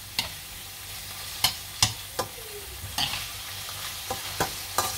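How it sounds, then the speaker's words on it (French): Tomato paste being stirred into calf liver in a hot pan, a spoon scraping and knocking against the pan in several sharp, irregular strokes over a soft sizzle, close and fairly quiet with no talking. "on va rajouter une petite cuillère, une cuillère à café de tomates concentrées. Voilà. Que je vais mélanger comme ça."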